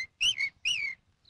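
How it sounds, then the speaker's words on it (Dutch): A person whistles a warning signal: two short rising-and-falling whistled notes, clear and close, separated by a brief pause, with no talking. "dat ik dat zo fluit om je te waarschuwen voor als er een man eraan kwam"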